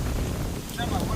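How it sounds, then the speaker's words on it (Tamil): Strong wind buffets the microphone outdoors beside a pond, a steady low rumble with gusty swells, while a voice talks faintly underneath. "எவ்வளோ காற்று அடிக்குது"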